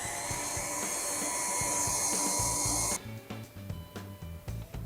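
An electric mixer whisks sugary meringue mixture for rainbow meringue kisses, a steady high whirring drone close up that drops abruptly in pitch and loudness halfway, then continues with uneven knocking as the beaters work the bowl.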